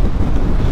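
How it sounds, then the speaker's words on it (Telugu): Strong headwind blasts a rider's microphone on a motorcycle ride from Atal Tunnel toward Tandi in Ladakh, a loud, continuous low roar and buffeting rumble. "ఎదురుగా అయితే విండ్ బ్లాస్ట్ బీభత్సంగా ఉన్నది"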